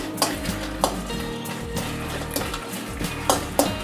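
Dried red chillies fry in hot oil in a pan for a crab curry: a close, crackling sizzle with regular sharp clinks and scrapes of a stirring spoon against the metal, no speech.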